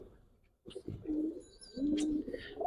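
Pigeons cooing at a Giribaz pigeon farm, a few close, low soft coos with brief rustles and a faint chirp, over a quiet background.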